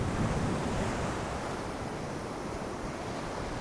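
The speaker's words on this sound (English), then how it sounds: "So the wind is really blowing." Strong wind and waves crash on a Lake Erie beach in a continuous, broad roar with heavy wind buffeting the microphone, steady and loud throughout, no voices.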